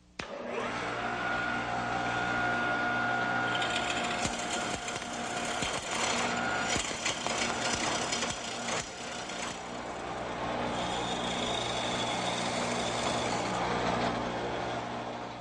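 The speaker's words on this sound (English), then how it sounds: "Now the next thing I do is start working with this bowl gouge." Wood lathe spinning a bowl blank while a bowl gouge shapes the outside profile, a steady motor whine with rough scraping and cutting bursts, fairly close and continuous.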